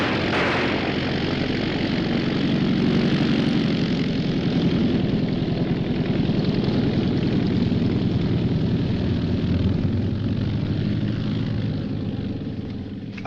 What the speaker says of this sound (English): Holmes, he's coming in for a landing.